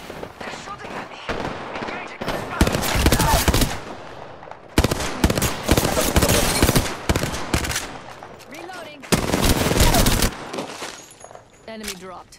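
Rapid automatic gunfire rattles in long, loud bursts in the Apex Legends video game, broken by short pauses between volleys, with quieter effects in the gaps.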